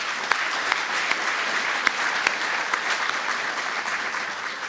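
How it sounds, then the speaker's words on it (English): A JuliaCon 2023 audience claps for Oscar, a sustained even wave of many hands with a few sharper individual claps standing out, holding steady throughout. "round of applause for Oscar."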